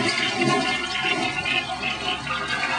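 A newly installed toilet flushing up close, a loud, steady rushing and gurgling of water throughout with no pause, heard alone without talk.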